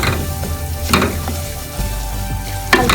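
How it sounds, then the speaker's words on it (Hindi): Semolina roasts in a pan on low flame with a soft, steady sizzle as a spoon scrapes and knocks against the metal now and then, close up and with no talk. "सूजी को हम लो फ्लेम पर ही भूनेंगे 4 से 5 मिनट के लिए"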